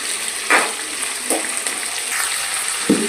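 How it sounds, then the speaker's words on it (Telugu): Green chillies and curry leaves fry in hot oil for a kidney bean curry, a steady broadband sizzle with a few soft stirring scrapes, close and moderately loud, no talking. "ఇవి లైట్ గోల్డెన్ కలర్లో వచ్చే వరకు వేపుకోవాలి"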